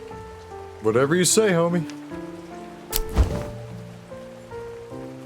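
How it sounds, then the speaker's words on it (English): Steady rainfall in the Cabernet video game patters softly and continuously beneath a voice and sustained game music tones, with a dull thump near the midpoint. "It's also conveniently raining"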